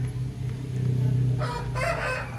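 A short-legged hen clucks and a rooster-like call sounds nearby in an open-roof free-range pen over a steady low hum, the bird calls rising briefly near the end.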